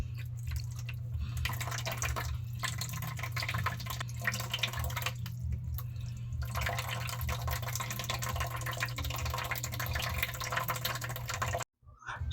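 Tap water runs steadily into a sink while raw meat is washed and its intestines removed, a continuous close splashing stream with a low hum, cutting off abruptly near the end.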